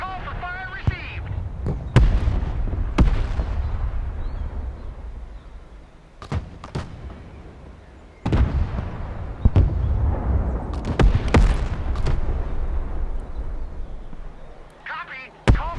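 In the video game Broken Arrow, an artillery fire mission sets off a string of heavy booms and sharp cracks. They come at uneven intervals over a continuous low rumble, with short bursts of radio voice chatter at the beginning and end.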